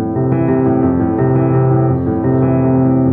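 Piano left hand repeating a steady arpeggiated pattern from a piece for Interstellar, played alone with sustained, ringing mid and low notes and no talking.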